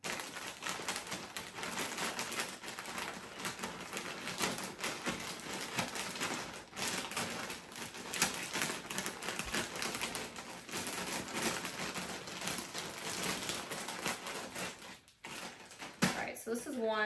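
Air being pressed out of a medium compression packing bag holding folded winter clothes, a steady close hiss with crinkling plastic running throughout, briefly dipping near the end.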